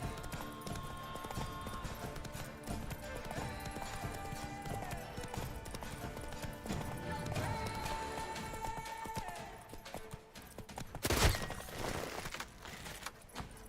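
Roach, Geralt's horse in The Witcher 3: Blood and Wine, gallops with a steady, loud clip-clop of hooves over in-game music, with a brief sharp burst near the end.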